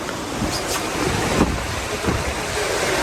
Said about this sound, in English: And you can hear the ocean in the background.